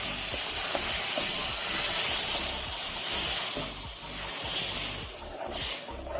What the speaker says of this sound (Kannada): ಮಸಾಲ ಫ್ರೈ ಆದ ನಂತರ ನಾವು ಬೇಯಿಸಿಟ್ಟ ನೀರನ್ನು ಅದಕ್ಕೆ ಸೇರಿಸಿಕೊಳ್ಳುವ